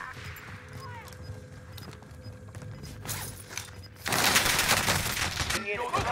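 Gunfire from an AUG rifle in Warzone, with scattered mechanical clicks and faint voices early on. At about four seconds it gives way to a loud, continuous burst of rapid automatic fire.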